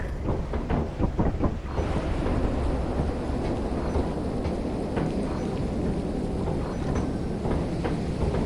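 Thunderstorm in the video game Lethal Company, a steady loud roar of rain and rumbling thunder filling the whole stretch with no pauses, heard alone without talk.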